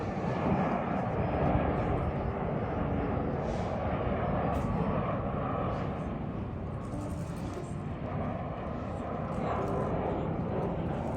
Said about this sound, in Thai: เครื่องบินนี้น่าจะกำลังลงสนามบินนี้นะฮะ